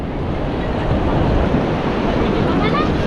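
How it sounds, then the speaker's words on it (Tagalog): Strong ocean waves surge at a beach in Siargao, a steady, loud wash of surf with wind buffeting the microphone throughout. "Malakas yung alon."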